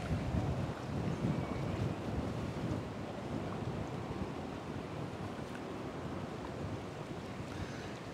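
Steady wind buffets the microphone over an open fishing lake, a constant broadband rush with low rumbling gusts, close and continuous with no talking.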